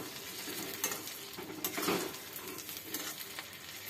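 Boiled olives stirred in hot oil in a pan for a sweet-sour pickle, a quiet continuous sizzle broken by soft scrapes and a louder stirring scrape in the middle, with no voices.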